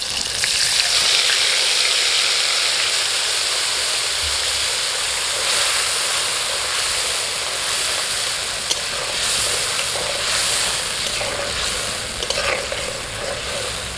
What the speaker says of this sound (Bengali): মশলাটাকে একটু কষিয়ে নিয়েছি